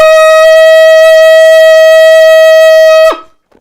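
A sustained high C on an alto saxophone, fingered with the register key, holds one steady bright note for about three seconds and then stops abruptly; it is loud and close, with no talking.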